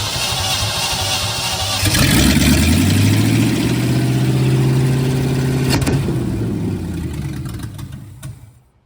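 A junkyard 1969 Chevy C10 engine cranks, catches and fires up on its own around two seconds in, then settles into a loud, slightly uneven idle that fades out near the end.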